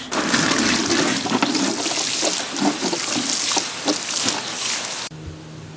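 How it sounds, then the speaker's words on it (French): A watering can pours a steady stream onto plants in a garden, a continuous close splashing rush of water that stops abruptly near the end, with no talking. "Un petit coup d'arrosoir, ça sera pas mal."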